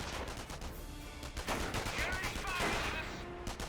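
Rapid rifle and machine-gun fire in the Company of Heroes video game, a dense, continuous rattle of shots during a battle, fairly faint and steady.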